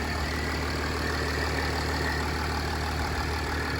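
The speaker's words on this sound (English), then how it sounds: "The engine runs nice and smoothly with nearly no issues." A Mercedes S-Class engine idles smoothly with a steady, even hum and low rumble, close and continuous with no revving.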